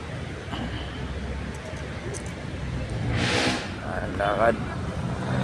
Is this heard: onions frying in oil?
no